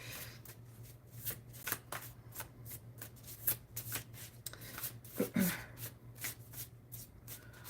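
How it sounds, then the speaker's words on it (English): A deck of inner child oracle cards is shuffled softly in the hands, giving repeated riffling, flicking bursts against a low steady hum in a quiet room. "So I'm going to pull a card and see what we have to say here."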